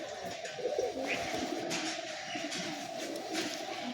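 Pigeons coo repeatedly in a loft of imported Pakistani, Madrasi and Giribaz breeds, soft throaty calls overlapping at close range against a rustling background, with no speech.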